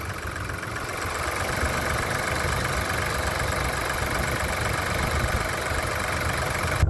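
A 2022 Ford Escape engine idles steadily and close by, a constant low rumble with a faint rattling texture and no voices.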